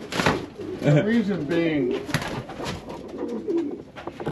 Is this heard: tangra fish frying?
no